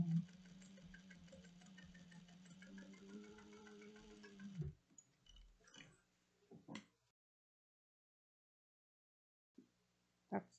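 A sewing machine stitching a bag lining seam with a 3/8-inch allowance runs in a steady close whir for about four seconds, then stops, followed by a few short clicks and taps and near silence.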